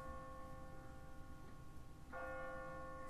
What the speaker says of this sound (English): No one's ringing that bell. It's automatic. On a timer.